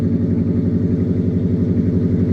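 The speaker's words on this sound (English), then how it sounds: "Look at it, it's revving up on its own." Ford F150 with a cam engine idling high on its own after warming up, a steady, loud, lumpy rumble close by with no voices.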